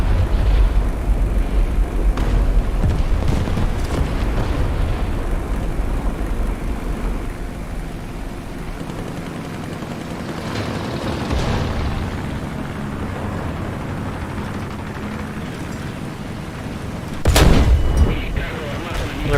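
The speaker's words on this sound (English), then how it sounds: "They're bombs." Bombs from a dive bomber exploding in War Thunder, heavy low booms and rumbling blasts under continuous battle noise, with one sharp, loud detonation near the end and some talk in places.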